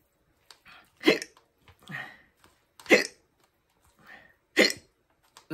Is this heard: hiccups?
yes